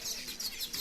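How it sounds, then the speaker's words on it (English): Bright yellow finches chirp in the treetops of a busy Ugandan vanilla farm, with high, repeated tweets in short bursts over a soft outdoor background. "right up above me in the trees are what look like these bright yellow finches"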